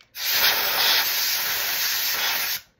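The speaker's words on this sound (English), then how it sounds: "So I like to spray that really good." Spray from a can used to clean dust off a sewing machine bobbin, a single loud, close, continuous hiss that lasts about two and a half seconds and then cuts off, with no talking.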